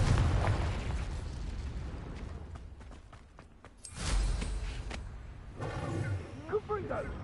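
Confringo fire-blast spell exploding in Hogwarts Legacy: a sudden booming burst near the middle, with a few sharp pops and crackles before it and a rumbling tail after, set against steady game ambience.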